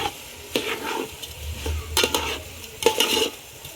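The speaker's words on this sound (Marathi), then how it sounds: "छान एकदम परतून घ्यायची आपल्याला. 2 ते 4 मिनिट सगळं परतून घ्यायचं आहे तेलामध्ये." Spices sautéing in hot oil for a mutton biryani cooked over a wood-fired chulha, with several sharp stirring scrapes of a spoon against the pot over a steady low sizzle.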